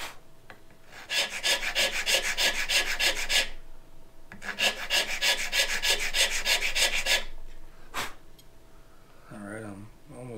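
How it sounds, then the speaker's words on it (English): A hand file works a wooden acoustic guitar bridge in two long bursts of fast, rhythmic rasping strokes, close and clear, followed by a single short scrape. A voice speaks briefly at the end. "I don't like filing uphill,"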